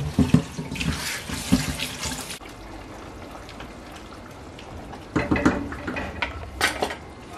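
Vegetable leaves are rinsed under a running kitchen tap while pochero is being prepared. Water splashes and clatters loudly at the start and end, with a softer, steady flow in between.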